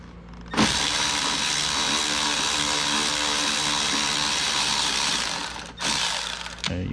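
A ratchet with a 10 mm socket loosens a ground bolt on a 2012 Fiat 500, one long continuous burst of fast, close clicking that stops briefly, then a short final run.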